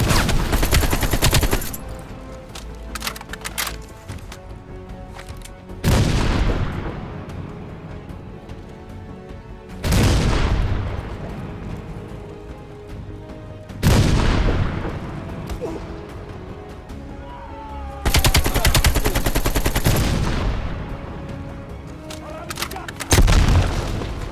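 Heavy machine gun fire in Call of Duty: Black Ops Cold War, loud sustained bursts recurring every few seconds with booming impacts decaying between them, a voice talking in the gaps.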